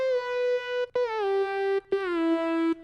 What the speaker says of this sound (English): Then I use this distant lead from the Adapt Serum Bank.